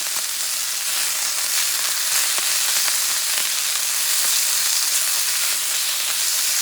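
Shredded beef fries in a hot pan, giving a loud, steady crackling sizzle with bright hissing spatter that runs unbroken throughout, with no voices.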